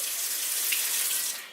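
Filtered water pours steadily from a tap into a cooking pot for rice, a brief close hiss of running water with no voices.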